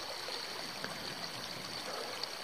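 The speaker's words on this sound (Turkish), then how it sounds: "Her yerden sular çağlıyor." Rainwater gushes and trickles beside a trail on Tahtalı Mountain, making a steady, close, even rush of flowing water with no voices.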